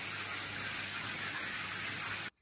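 A house shower sprays in a dense, even hiss of water, close and continuous, then cuts off abruptly at the end.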